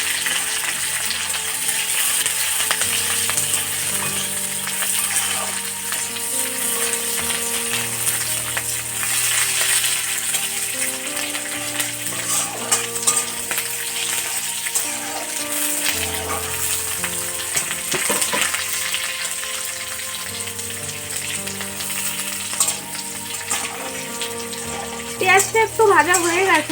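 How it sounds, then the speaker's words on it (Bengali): Chopped onion and garlic fry in a pan for Bengali-style chilli chicken, giving a close, steady sizzle with occasional stirring over a tonal background. "পেঁয়াজটা একটু ভাজা হয়ে গেছে"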